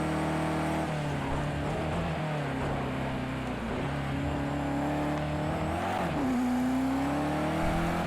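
A race car in the Project CARS 2 video game drives hard, its engine droning loud and continuous, pitch rising and dipping through a braking zone with some tyre noise.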